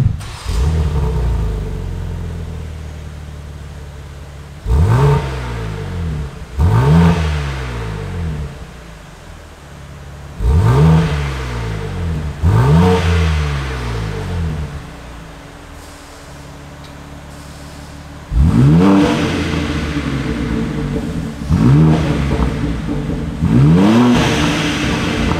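BMW G80 M3 fitted with a Scorpion exhaust revving hard in a series of about seven sharp blips, each rising and falling, then a longer sustained run near the end, loud and close with no talk over it.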